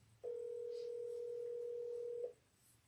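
A single steady electronic tone sounds from a phone for about two seconds, then cuts off, faint and alone.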